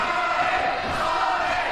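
A wrestling crowd at a live event cheers and roars steadily as one dense wash of voices, loud and sustained with no break.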